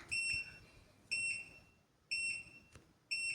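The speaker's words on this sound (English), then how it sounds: "my daughter has complained to me once or twice that she's heard the beep beep of the walking pad" Button beeps from a DeerRun walking pad remote, four sharp electronic chirps spaced about a second apart, clear and fairly loud in a quiet room.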